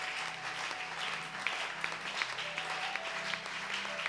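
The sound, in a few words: applause from a church congregation acclaiming God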